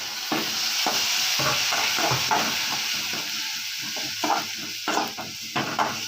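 Veg kothu parotta mixture with salt being stirred in a pan, steady frying sizzle with repeated scraping strokes of a utensil against the metal.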